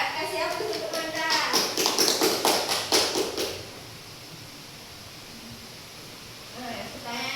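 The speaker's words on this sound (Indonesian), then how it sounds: "Kasih aplaus untuk Anda." Classroom applause during a biology lesson on the digestive system breaks out as a burst of rapid, dense clapping for about three and a half seconds, then fades into quiet room tone before a voice returns at the end.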